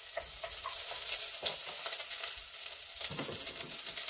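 Onions caramelizing in a pan for vegetarian onion soup give a steady sizzle, broken by scraping strokes of a spoon every second or so as they are stirred.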